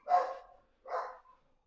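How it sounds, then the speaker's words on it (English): A puppy gives two short, sharp barks about a second apart, heard at a moderate distance in an otherwise quiet indoor room. "There goes the puppy dog."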